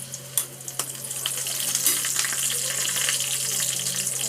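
Garlic and bay leaf sizzle in hot oil for a tempering, starting with a few sharp crackles that settle into a steady, close frying hiss.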